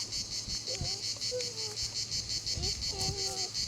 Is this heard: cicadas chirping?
yes